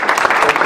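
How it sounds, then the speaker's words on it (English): Loud, close applause from an audience at a college squash Hall of Fame induction, an even burst of many hands clapping with no talk heard. "I'd like us all to give a big round of applause"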